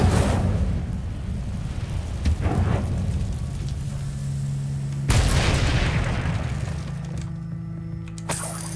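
An Incendio fire spell is cast in Hogwarts Legacy, a burst of rushing, crackling flame that surges partway through over a steady ambient bed with scattered soft impacts, no one talking.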